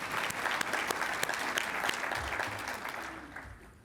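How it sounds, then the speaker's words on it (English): An audience at an annual conference keynote breaks into applause, a dense, steady burst of clapping that holds for a few seconds and then fades out. "We can clap for that."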